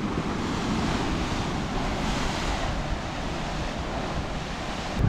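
Sea waves surge against rocks at Nusa Penida, Indonesia, producing a constant, heavy rush of churning water with wind noise on the microphone, loud and sustained throughout without any speech.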